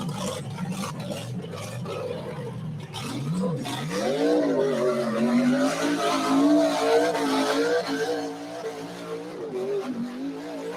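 A worn race car motor running, rough engine tone that rises in a revving sweep midway and then settles, loud and close with some scraping noise and no talking.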